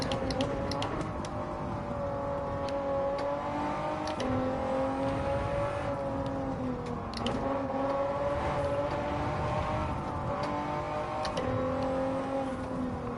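A race car in Gran Turismo 7 climbs steadily through its gears, the engine note rising and dropping at each shift in a sustained, close drone with no voices.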